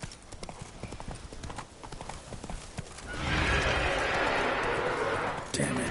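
Hooves of Roach, the horse in The Witcher 3: Blood and Wine, clip-clop in a quick steady rhythm, then a loud whinny rises and swells near the end, close and clear.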